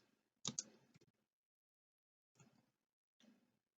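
Keyboard typing during quantum programming work on a computer: a short burst of close, quiet clicking keystrokes, then two brief later flurries of taps, with silence between.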